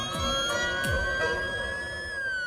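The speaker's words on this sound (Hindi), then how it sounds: "पुलिस की गाड़ी आ गई" A police car siren wails steadily with a loud tonal sweep, close and continuous, joined by a few brief whooshing passes.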